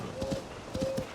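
Quick hoof clip-clops of a running horse in the video game Zelda: Tears of the Kingdom, two short rhythmic bursts over a faint background tone, brief and fairly quiet.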